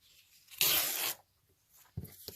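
A sheet of paper is trimmed down by hand for a junk journal, one close half-second rip or slice followed by a couple of soft crinkles and taps.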